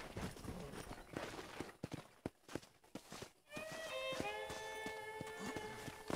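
Horse hooves in Red Dead Redemption clip-clop in a steady walking rhythm, nearby and fairly loud, with a bright musical tone rising in partway through.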